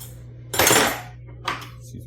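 A spoon clinking and scraping in a container while GO-FERM yeast nutrient for mead is mixed, two short bursts of clatter, the first louder and longer, the second briefer, close and otherwise quiet.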